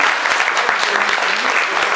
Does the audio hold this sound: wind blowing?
no